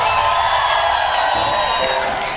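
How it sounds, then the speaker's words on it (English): A late-night television studio audience cheers and whoops in a loud, sustained burst of crowd noise that fades slightly at the end. "That sounds like a Friday crowd to me right there."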